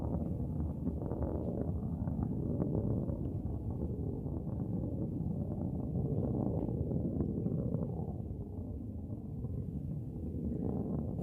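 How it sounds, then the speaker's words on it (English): A Blue Origin New Shepard rocket's BE-3 engine roars through the sky over West Texas, a continuous low rumbling thunder heard from a distance with no voices. "we can hear that BE-3 engine just roaring through the sky"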